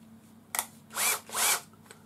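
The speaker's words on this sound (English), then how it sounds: "I'm just going to use the cordless drill" A cordless drill whirs in two short bursts, each about a quarter second, after a brief click, close and fairly loud, twisting wire to make jewelry jump rings.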